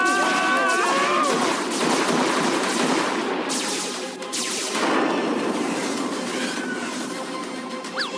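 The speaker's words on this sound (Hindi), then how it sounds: "फायरिंग रुक गई।" A spaceship's guns blaze in a cartoon attack, a loud, dense barrage of rapid shots and blasts that keeps going almost without a break, with a slight dip partway through.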